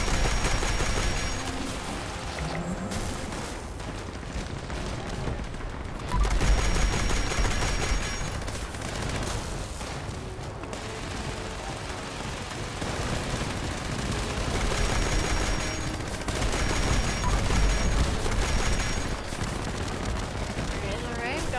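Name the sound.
gunfire in the video game Fallout 76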